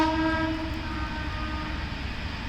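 A mail express train on the railway line beside a fish pond, its horn sounding in a steady tone at the start before fading into a continuous loud rumble of passing wagons.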